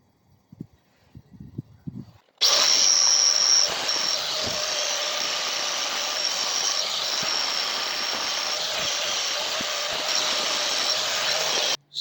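Wire wheel grinding and cleaning the metal frame of a Tote Gote Model 770 motorbike, a loud continuous abrasive whir running steadily for about ten seconds after a few quiet handling knocks.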